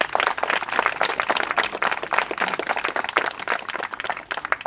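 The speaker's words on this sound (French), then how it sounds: "Je pense qu'on peut les applaudir pour ça." Applause from an audience at a village festival ceremony, a dense, steady patter of many hands clapping close by for the whole stretch, with no talk over it.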